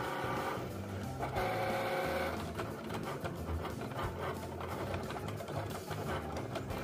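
A Cricut cutting machine runs through cardstock, giving a steady mechanical whir with shifting motor tones and faint clicks, close and continuous throughout, with no talking.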